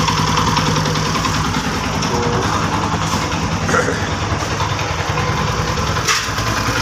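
Loose tappets clatter on an idling rebuilt Chinese motorcycle engine, a loud, rapid ticking over a steady mid-pitched engine beat, with a few sharper knocks and no talk.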